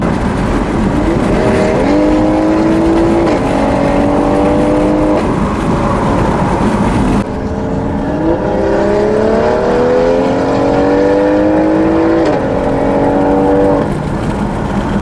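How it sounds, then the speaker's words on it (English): A BMW M340i on H&R springs or coilovers accelerating hard, its engine rising through the gears in repeated climbing sweeps with brief shift breaks, loud and close from start to finish. "If I was just randomly driving and I saw a car take off like that, I'd objectively be like, that is a fast car."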